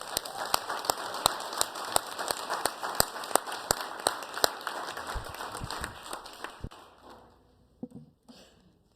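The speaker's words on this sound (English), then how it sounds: "And I think they deserve one more round of applause." Applause at a school district board meeting, steady clapping from a modest crowd with distinct individual claps, thinning out and fading to a few scattered claps near the end.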